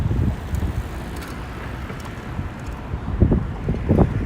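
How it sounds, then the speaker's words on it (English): Wind rushes through Columbus Circle in New York City, buffeting the microphone with low gusting rumbles that swell louder toward the end amid distant street noise. "This is one of the worst wind tunnels in the entire city."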